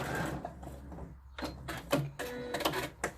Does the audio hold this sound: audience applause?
no